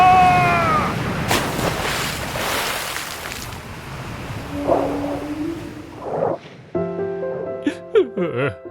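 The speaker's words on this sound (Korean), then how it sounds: "갑자기 이게 웬 파도지? 이러다 바다에 빠지겠어." Surging ocean waves with wind rush, a loud sound effect in a children's story of Jonah's storm at sea, swelling through the first few seconds before fading under later voices and tonal effects.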